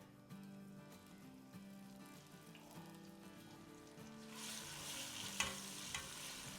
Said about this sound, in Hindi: बस इसे हम 30-40 सेकंड फ्राई करेंगे अदरक और लहसुन के साथ प्याज़ों को